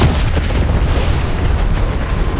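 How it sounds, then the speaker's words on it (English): A grenade explosion in the Black Ops 6 video game, a loud, close, rumbling blast that fills the whole moment with heavy low boom and debris. "Enemy grenade!"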